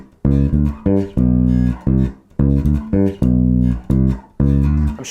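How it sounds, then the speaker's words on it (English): A funky old-school soul bass line on bass guitar, a syncopated phrase pushed ahead of the beat, plays loud and close, repeating as a groove about four times with no voices. "And so what we're aiming for is a bass line that sounds like this."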